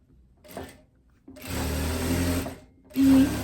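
A sewing machine stitching viscose fabric in short bursts: a brief start, a longer steady whirring run, then a final loud burst to finish the seam, close and without talk.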